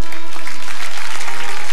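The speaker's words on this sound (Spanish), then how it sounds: "Un aplauso al jurado." Studio audience applauding a jury on a televised competition show, a loud dense burst of clapping that fills the moment with no talk over it.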